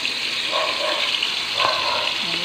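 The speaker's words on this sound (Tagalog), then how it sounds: "Iprito siya ng kunti bago lagyan ng sauce yan." Blue marlin steak fries in a hot pan, giving a steady close hiss and crackle of oil that runs unbroken throughout, with a few faint clinks over it.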